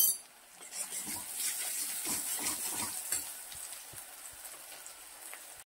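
Onion with turmeric and ginger-garlic paste sautéing in a pan for a besan vadi rassa, a steady close sizzle with stirring scrapes through the middle that fades toward the end, no voices.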